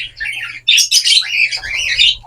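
Young zebra finch chicks chirp and squawk in rapid, overlapping high-pitched calls, close and loud, with a low hum beneath.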